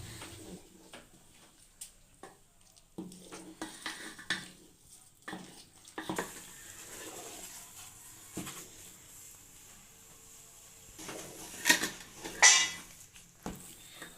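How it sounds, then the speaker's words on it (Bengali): Lentil halwa is stirred in a pot with a spoon, making scattered scraping and clinking knocks against the metal, some sharper taps standing out against otherwise quiet kitchen sound. "যখন হালুয়া করবেন তার একটা জিনিস খেয়াল রাখতে হবে, সারাক্ষণ নাড়াচাড়া করে যেতে হবে, নয়তো নিচে হালুয়াটা ধরে লাগবে হাঁড়িতে"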